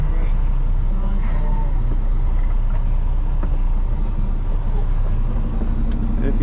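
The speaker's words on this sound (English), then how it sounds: "Jay, we're fucking driving a truck" Truck cab interior on the road: a steady, loud engine and road rumble runs throughout, with people talking over it.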